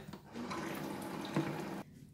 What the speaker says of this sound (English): we're going to put in hot water